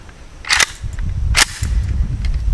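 Two sharp, loud gunshots from a Romanian Cugir-made WASR RH-10 AK-47 rifle with wood furniture, about a second apart, close to the microphone and outdoors.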